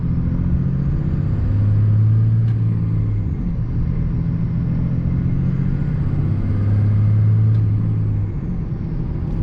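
A Cummins diesel truck with a 6-speed NV5600 manual and an aftermarket cold air intake runs with a steady, deep rumbling drone that stays even and close throughout.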